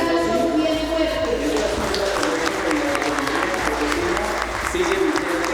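Loud, sustained applause from an audience at a public forum on the peace plebiscite in Pamplona, Colombia, steady dense clapping throughout with some crowd noise and voices mixed in.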